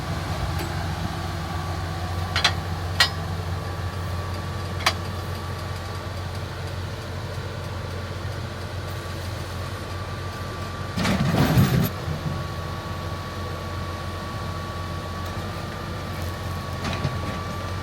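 A tractor-driven butterfly mower cuts a large field, its engine droning steadily up close with a constant whine and a few sharp knocks, plus a brief louder rattling burst partway through; no talk.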